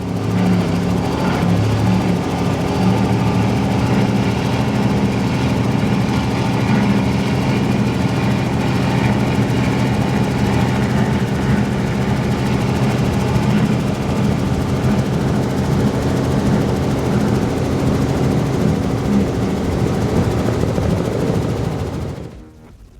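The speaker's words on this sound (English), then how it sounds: "the boat looks and sounds so good" A powerboat engine drones steadily at a deep, constant pitch for the whole stretch, then cuts off abruptly at the end.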